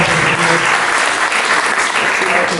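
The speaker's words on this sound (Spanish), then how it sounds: "un aplauso de vuelta" Audience applause at a political economy talk in a time of crisis, a dense, steady wash of clapping from a crowd throughout, loud and close.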